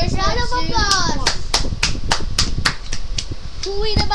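A round of applause at a battle event: a dozen or so sharp, evenly spaced claps ring out close and loud, with voices, including a child's, talking over and around them.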